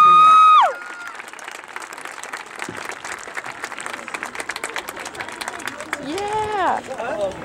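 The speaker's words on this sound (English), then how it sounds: "how about another round of applause for Atrisco Heritage Jaguar Pride Marching Band" Crowd applause and cheering for the Atrisco Heritage Jaguar Pride marching band at a competition, a sustained clatter of many hands with scattered shouts and whistles, after an announcer's voice ends, building slightly toward the close.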